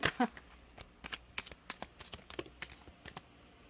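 Tarot and oracle cards handled and shuffled close up, a run of light crisp riffling clicks and slaps spaced irregularly over a few seconds, with a sharper clatter at the start.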